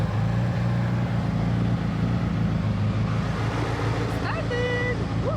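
A vintage Bugatti engine at a classic car gathering on a hot day, running with a steady low rumble close by, while people talk and cheer over it.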